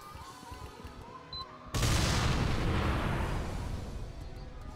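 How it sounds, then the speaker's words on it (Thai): In a competitive video game match, a sudden loud blast of gunfire and grenade explosions erupts, sustaining a dense, roaring barrage after a quieter stretch of game ambience. "ยังปาระเบิดยังยิงกระสุนสาดแซวกันเรื่อยๆฮะ"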